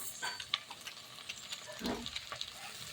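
Sevai upma being stirred in a pan with cashews, turmeric, coriander-cumin powder and Maggi masala: a soft continuous sizzle with light scraping and stirring clicks, close and moderately quiet, with no talking.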